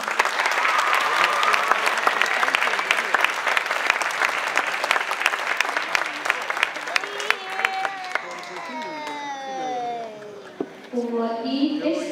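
A crowd at a youth team gymnastics championship in Iceland breaks into dense, loud applause that thins out to scattered claps after several seconds, with voices and cheering rising near the end.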